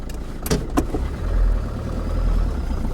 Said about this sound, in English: The exhaust is still knocking